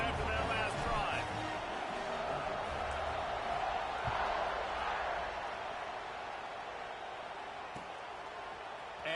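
A college football stadium crowd at Notre Dame versus Texas roars in a steady, broad wash of cheering during a kickoff, with a commentator talking over it.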